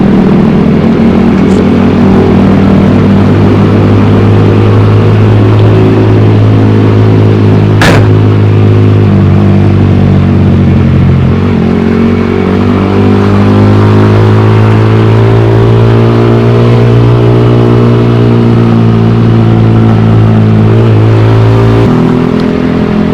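Steady, loud traffic rumble on busy Sudirman street fills the air, with engines droning and a vehicle accelerating nearby amid a constant city hum.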